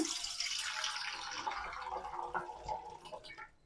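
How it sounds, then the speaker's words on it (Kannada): Water pours into a bowl in a home kitchen where dahi vada is being made, a steady close splashing stream that thins and breaks into drips toward the end. "ಇವಾಗ ವಡೆ ಕರಿದ್ಬಿಟ್ಟು ಹಾಕೋಕ್ಕೆ ಒಂದು ಬೌಲಲ್ಲಿ ನೀರು ತಗೊಳ್ಳೋಣ"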